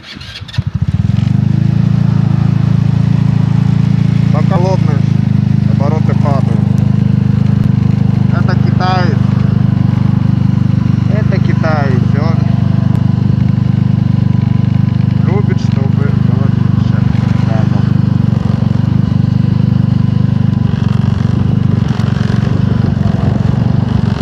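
A tuned Khors 056 motorcycle engine fires up and runs at a steady, loud idle, with a brief blip or two of throttle, while someone talks intermittently over it.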